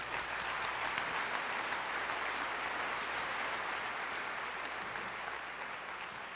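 Sustained applause from a theater audience at a Red Cross benefit rock concert, loud and steady throughout with no pauses, filling the room without any voices on top.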